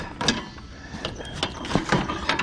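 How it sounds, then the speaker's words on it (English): Metal axle scraping and clicking as it is slid out of a Troy-Bilt Pony lawn tractor during a king pin bushing repair, a close series of irregular ratcheting clacks and grinding scrapes. "So now this axle will just slide out"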